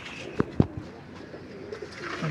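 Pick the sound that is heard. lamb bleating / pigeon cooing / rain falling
pigeon cooing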